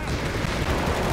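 A machine gun fires in Company of Heroes 3 in a short, loud, dense burst of rapid shots set against battlefield noise.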